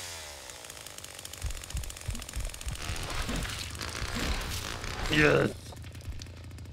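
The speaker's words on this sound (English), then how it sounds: "I forgot I needed to start my chainsaw." Leatherface's chainsaw in the Texas Chainsaw Massacre video game sputters and catches, its engine rattling and building to a loud rough roar before cutting off, with a voice speaking briefly.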